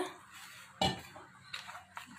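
A spoon clinks and scrapes against a bowl while mixing baby corn fritter batter with water, in a few brief, separate strokes, close and fairly quiet.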